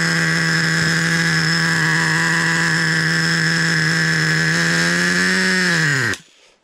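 A Traxxas Revo 3.3 nitro RC car engine runs steadily at a loud, high-pitched whine after a restart, holding constant for about six seconds before spooling down and cutting out abruptly.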